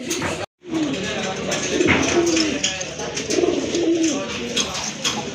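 Several large Indian Bombay pigeons coo repeatedly at close range, soft throaty rolling calls recurring over a few seconds, with people talking nearby and a brief drop to silence near the start.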